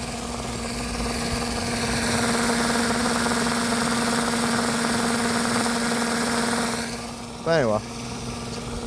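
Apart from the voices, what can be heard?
homemade hydro electric generator spinning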